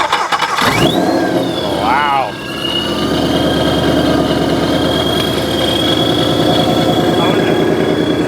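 A wrecked supercharged Ford Mustang GT cranks briefly, then fires up into a loud, steady idle with a high supercharger whine and a throbbing exhaust pulse, while people exclaim and talk nearby.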